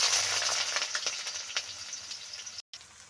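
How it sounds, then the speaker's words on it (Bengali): Cut potatoes hit hot mustard oil in a pan and sizzle steadily, a bright crackling fry heard up close that eases off a little before a brief drop at the end. "তেল গরম হয়ে গেছে, প্রথমে আমি কেটে রাখা আলুগুলো দিয়ে দিচ্ছি।"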